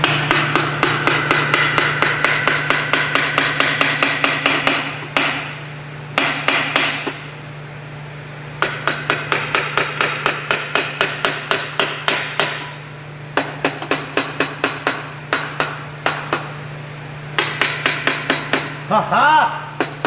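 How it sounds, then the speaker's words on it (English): Rapid bursts of rawhide mallet strikes during a Honda 250R build, sharp repeated taps in quick runs separated by short pauses, close and fairly loud over a low steady hum. "rawhide hammer time"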